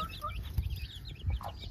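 A hen clucks in a few short, low, close calls over light background noise, with no talking.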